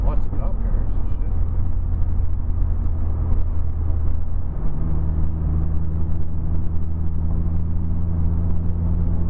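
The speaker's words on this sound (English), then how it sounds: "Engine braking." A 2010 Mazda 3 GT with the 2.5 engine engine-braking on a two-lane highway, a loud steady in-cabin drone and road rumble that settles into a lower sustained hum midway.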